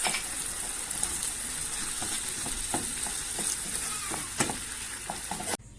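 Chicken filling with spices sautés in a pan, a steady close sizzle with repeated clicks and scrapes from stirring, ending abruptly with quieter background.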